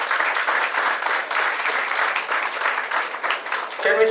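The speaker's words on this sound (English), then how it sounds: "can we have claps for all the participants who have come here?" Audience at an assistive technology talk on muscular dystrophies claps steadily for the participants, a dense, continuous patter of many hands that holds for about four seconds before tapering at the end.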